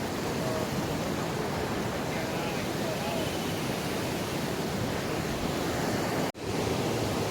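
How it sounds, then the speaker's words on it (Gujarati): Floodwater rushes in a swollen stream after the season's first heavy monsoon rain in Gujarat, a steady, loud, broadband roar that continues without pause, with only a brief dip near the end. "તો ભાઈ ગરાવામાં કંઈક આવું પાણી આવેલું છે"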